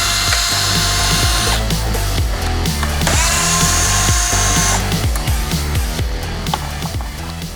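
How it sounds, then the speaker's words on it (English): A power driver backs out T15 Torx screws from a Jeep Wrangler headlight, its loud ratcheting whir running almost continuously up close, with short pauses and changes in pitch between screws. "to remove the existing headlight, we're going to remove these 4 T15 Torx screws."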